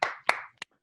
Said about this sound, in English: That's the first time I ever got applause